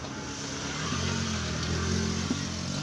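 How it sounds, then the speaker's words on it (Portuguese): A car rolls over a bridge at a wet low-water crossing in rural Pernambuco, Brazil, its engine hum rising steadily across a few seconds at moderate distance, alone without talk. "Pode observar um carro passando aqui"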